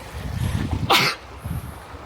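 A single sharp sneeze bursts out mid-clip, breathy and fairly close, with faint low murmuring before and after it.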